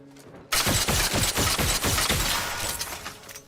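A burst of video game gunfire erupts suddenly after a quiet moment, rapid repeated shots in a dense, loud volley that trails off over a few seconds, no talk.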